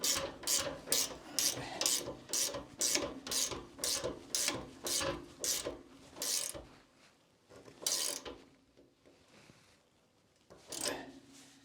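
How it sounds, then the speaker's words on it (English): A 16mm Mira Joker ratchet spanner tightens a radiator valve in a quick run of about a dozen rhythmic clicking strokes up close, then pauses and gives a couple of final clicks. "I use a 16mm Mira joker spanner"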